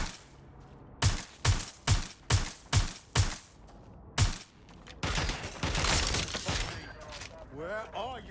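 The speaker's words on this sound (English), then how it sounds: "Suspect has opened fire." Gunfire from a suspect in the video game Watch Dogs Legion: seven sharp, evenly spaced shots ring out close and loud, a pause, one more shot, then a burst of crackling rapid fire with shouting voices at the end.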